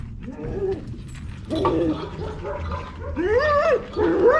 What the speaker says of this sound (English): Huge dog.